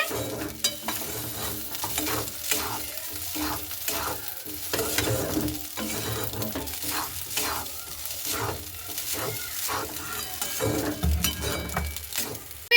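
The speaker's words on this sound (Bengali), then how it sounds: "ম্যাগি মশলাটাকে দিয়ে খুব ভালো মতো করে নাড়াচাড়া করে নিচ্ছি" Leftover rice sizzles in a frying pan as it is stirred with Maggi masala, with repeated scraping strokes of the spatula in a steady rhythm and occasional light metal clinks close by.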